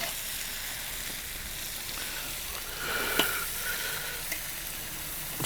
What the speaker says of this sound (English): We're going to stir our peppers up, make sure they're good